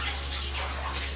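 Lukewarm water runs steadily from a tap or hose while a medium-sized long-haired dog is bathed, a continuous close hiss with no voices.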